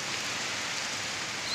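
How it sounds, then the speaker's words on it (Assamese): Steady rain shower falling after a spell of hot weather, a continuous even hiss close by with no voices over it. "ইমান উৎকট গৰমৰ পিছত যে বৰষুণ জাক আহিছিল"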